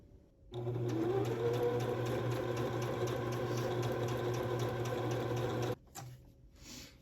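Sewing machine stitching a seam on a homemade Up movie costume, a close, steady mechanical whirr with rapid rhythmic needle clatter running for about five seconds, then stopping abruptly with a few faint handling sounds after.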